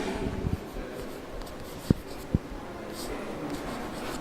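Chalk or marker strokes on a board during a geometry lesson on circles, with soft scratching and two sharp taps standing out over a faint room hiss; no talking.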